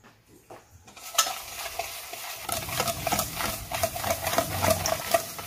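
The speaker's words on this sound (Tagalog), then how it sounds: "first we're going to mix our sugar with our oil" Sugar and oil being mixed in a bowl for chocolate chip muffins, a steady scraping, stirring rasp with repeated strokes, close and moderately loud after a quiet start, with no talking.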